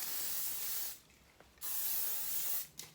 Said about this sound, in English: give it a spray with some hairspray